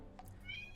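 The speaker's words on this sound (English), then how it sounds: "That's my cat." A house cat gives a couple of short, faint meows over a low background hum, with no talking during the sounds.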